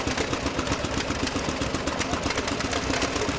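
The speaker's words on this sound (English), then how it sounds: "You can see how he's fighting with the tractor and trying to keep it there and look after the clutch" A vintage tractor engine chugs at a rural heritage rally, a rhythmic, uneven low thumping heard fairly quietly and steadily throughout.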